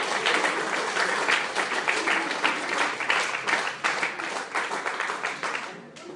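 A church congregation applauding for Christ during a sermon. The dense, steady clapping from many hands carries on for several seconds before easing off at the end.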